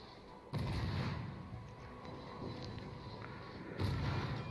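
Ship guns fire in a ranked naval battle game featuring the destroyer Neustrashimy, two heavy booming salvos a few seconds apart with a rumbling tail between them.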